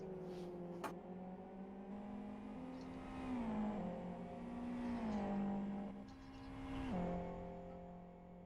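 A GT race car in the Buggyra Zero Mileage GT Cup runs its out lap at Blackwood GP, its engine droning steadily with a few rising and falling revs and gear changes, heard from onboard with no talk.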